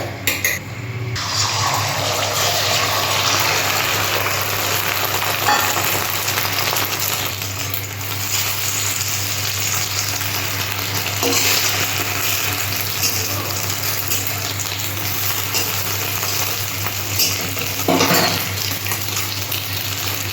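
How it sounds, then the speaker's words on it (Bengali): Egg omelettes frying in a pan on a home stove, a steady broadband sizzle with a constant low hum and a few soft clinks, close and continuous throughout. "আজকে আমি ডিমের অমলেট করে করছি"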